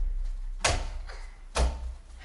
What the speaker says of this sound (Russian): И закрывай дверь.